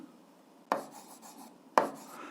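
Two short, distinct marker or pen strokes written about a second apart while working an algebra solution, each a quick scratchy swipe that fades fast, close and quiet against near silence.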